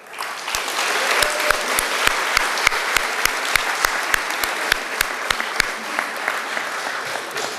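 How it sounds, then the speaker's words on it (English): An audience gives a round of applause, a dense, loud and steady clapping that runs alone for several seconds before starting to fade. "So I think that deserves maybe a round of applause, right?"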